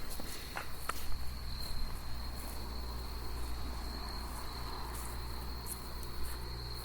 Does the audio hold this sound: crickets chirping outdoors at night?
yes